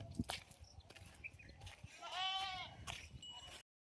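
A goat on a farm gives one drawn-out, wavering bleat near the middle, heard fairly close among faint farmyard rustles and a few soft knocks.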